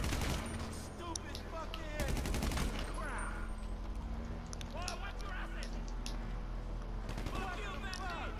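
Gunfire in a GTA Online shootout: repeated rapid bursts and scattered single shots over steady game background noise, with people talking throughout.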